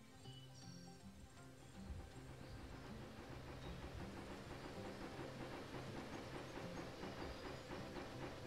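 A train in the Hay Day farming video game clatters with a steady, rhythmic clickety-clack over game music, moderately loud and continuous throughout, with no speech.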